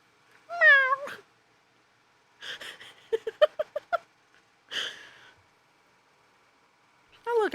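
A single short meow, then a series of short chirpy meow-like calls and another meow, close and fairly soft with quiet gaps between.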